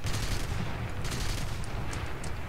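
Aircraft machine guns fire in the War Thunder video game, heard as a dense, continuous rattle of rapid shots with steady loudness over a noisy background and no pauses.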